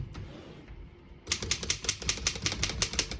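Vintage portable typewriter being typed on, a quiet lead-in giving way to a steady run of crisp, evenly spaced key strikes from about 1.3 seconds onward, close and clear with no speech.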